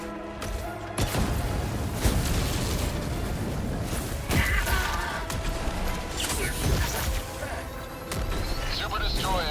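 Explosions and gunfire in the video game Helldivers 2 during an Illuminate outpost fight, continuous dense booms, pops and crashes layered with game voices.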